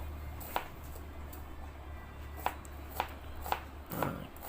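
Knife chopping shallots finely on a board for nasi lemak: sparse, sharp single taps a second or so apart, faint and close, over a low steady hum with no talk.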